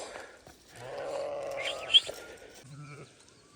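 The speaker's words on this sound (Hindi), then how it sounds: "भेड़ बकरियों को छोड़ दिया है चरने के लिए" A flock of sheep and goats, about 300 animals kept by a shepherd in a remote forest, is let out to graze in the morning; a brief bleat rises amid the rustle, with a person talking.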